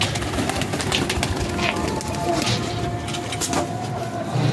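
Paired pigeons released on a rooftop coo softly over steady background traffic hum, with a few sharp bird calls and some nearby talking.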